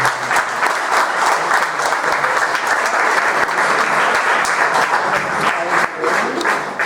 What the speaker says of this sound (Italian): quindi facciamo un bel applauso a Sergio Gardini